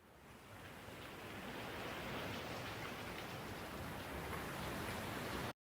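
Soft, steady drizzle of rain falling on St. Patrick's Day, a continuous broadband patter that holds an even, fairly loud level throughout before cutting off abruptly at the very end.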